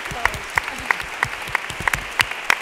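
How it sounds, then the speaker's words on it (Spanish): Audience applause at the closing ceremony of an international congress on cooperative physical activities, heard as a sparse scattering of separate claps rather than a full ovation, moderately loud in a large hall. "Un aplauso."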